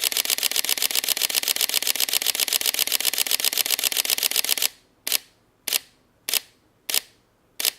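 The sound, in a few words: Sony A7 III camera shooting continuous burst in RAW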